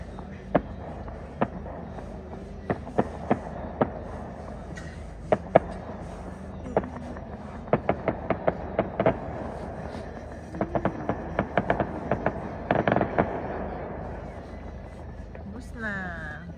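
Fireworks crackle and pop at a beach camping site, sharp bursts scattered across the clip in irregular clusters, some close and loud, over steady background noise with people talking.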